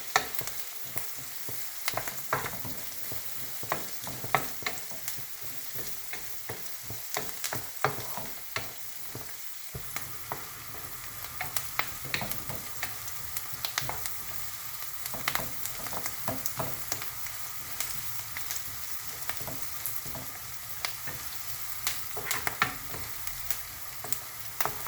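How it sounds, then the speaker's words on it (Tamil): Ingredients including a little chana dal roast in a pan for coriander tomato chutney, a steady sizzle and crackle broken by frequent scraping stirs throughout, close and alone. "இப்போ இதை நாம் நல்லா ரோஸ்ட் பண்ணிடலாம்."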